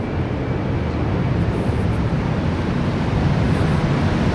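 A huge aircraft roars low overhead inside a long tunnel, a steady, loud broadband rumble that fills the space without letup, with no voices.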